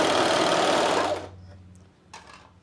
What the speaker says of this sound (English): I'm going to stitch over top of that knot.